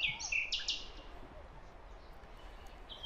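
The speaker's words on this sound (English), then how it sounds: "I also wanted there to be a slow transition from nightingales to a different sort of bird" Bird song moves from nightingale phrases toward another kind of bird: a few bright chirping bursts open loudly, then give way to quieter calls near the end over a faint background.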